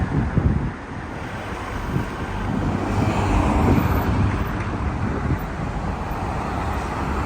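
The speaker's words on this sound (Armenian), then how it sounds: "քամի է մի թեթև" Light wind blowing outdoors beside a road on a hazy day, buffeting the microphone as a steady, fairly loud rush with low rumbling gusts throughout.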